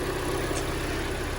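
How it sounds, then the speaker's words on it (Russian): A repaired Kia Sportage with a G4NA engine idles evenly, a steady low rumble with no knocks or rattles, close and continuous. "Мотор работает ровно."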